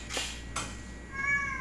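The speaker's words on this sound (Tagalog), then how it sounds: "Yung pusa na maingay." Cat meowing in two short calls close by, the second fainter, followed by a quieter stretch with faint background tones; no talking.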